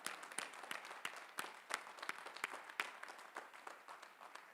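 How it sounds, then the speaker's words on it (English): Scattered hands clap for golden graduates at a Northeastern University undergraduate commencement ceremony, sparse distinct claps that sound faint and distant, spaced irregularly across a quiet background. "Please give them a round of applause,"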